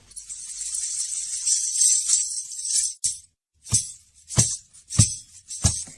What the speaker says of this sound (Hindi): ओ, घुंघरू। मेरे डांस क्लास के लिए घुंघरू।